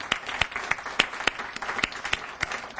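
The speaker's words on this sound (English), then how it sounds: "Let's give these students and all the students who participated another round of applause" Applause at a sustainable futures project competition for the participating students, a small group clapping with distinct, uneven individual claps standing out close by, moderately loud throughout.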